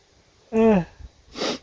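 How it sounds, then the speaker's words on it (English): A single sneeze close up: a short voiced intake building up, then a sharp breathy burst. "Sorry, I'm going to sneeze."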